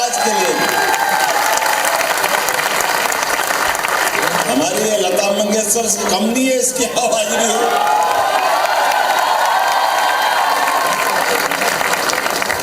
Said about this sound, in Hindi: जोरदार ताली बजा इसकी आवाज के लिए